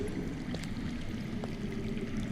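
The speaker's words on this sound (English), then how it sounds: "That's water. I hear water. From underground." Water running underground, a faint continuous gurgling flow under a low steady hum, with a couple of brief distant knocks.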